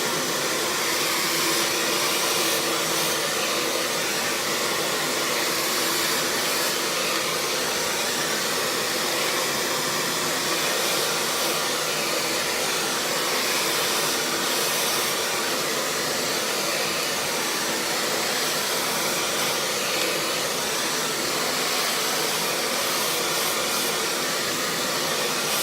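A hair dryer runs the whole time while hair is blow-dried, its loud, steady, breathy whoosh holding on with slight swells as the airflow moves.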